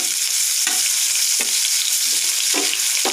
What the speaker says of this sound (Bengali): জিরেটা একটু ভাজা ভাজার পর আমি পেঁয়াজ রসুন দিয়ে দিলাম।